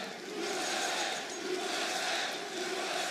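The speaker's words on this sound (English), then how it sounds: "Listening to the chants." A large crowd roars and chants continuously in a big arena at a CS:GO esports quarterfinal match, a dense, steady wall of voices with no clear pauses.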